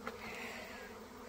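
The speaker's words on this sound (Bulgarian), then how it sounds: "Но това са пчелички, които са в роево състояние" A swarm of honey bees in swarming mood, gathered near a hive, gives a continuous faint buzzing drone with no voices over it.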